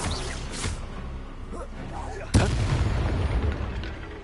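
An explosive fire spell cast in the fantasy game Hogwarts Legacy, a single sharp boom that erupts mid-clip and rumbles on, with a voice speaking before the blast.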